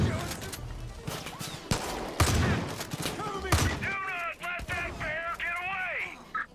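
Gunfire in the video game Far Cry 5: repeated sharp shots and bursts over about six seconds with a busy game soundscape, followed by rising and falling tonal cries near the end.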